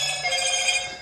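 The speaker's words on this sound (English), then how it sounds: "Oh, that's my phone." A phone rings close by with a bright, steady electronic ringtone.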